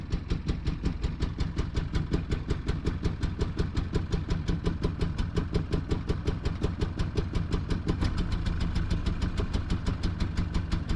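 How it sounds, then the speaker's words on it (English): A Toyota Hilux SR5 pickup engine runs rough on only a few cylinders, a steady close loud chugging pulse with uneven firing beats and no voices. "Might have two cylinders going now."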